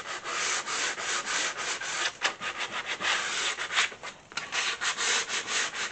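Steady rhythmic scraping of sandpaper rubbed back and forth over wood by hand, close and continuous with no talking.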